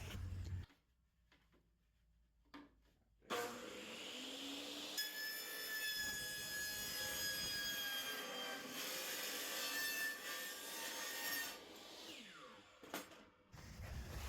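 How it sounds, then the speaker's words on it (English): A miter saw cuts off excess material, with a sharp spin-up into a sustained whining cut lasting several seconds before winding down, loud and close with quieter handling noise around it. "I'm going to go over to the miter saw and just cut that off clean right there"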